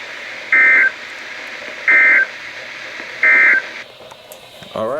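Three identical loud electronic tones from weather radios during an alarm test sound at even intervals, each about a third of a second long, over a quiet hum.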